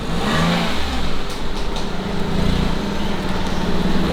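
Red car being driven in and parked, its medium engine revving and idling steadily at close range, with no talking.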